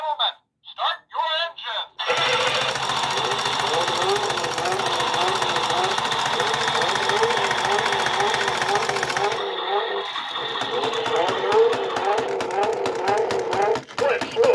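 A 2009 TSI Road Rippers Muscle Boss Turbo toy car, a rare three-button variant, plays a loud electronic engine start-up and revving effect that runs steadily for about seven seconds after a couple of clicks, then shifts to a lower idle.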